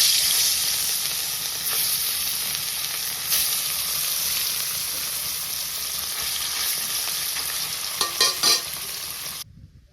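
Fish frying in hot oil in a village kitchen: a loud, steady sizzle runs almost the whole way, a few clatters come near the end, then it cuts off abruptly. No one speaks.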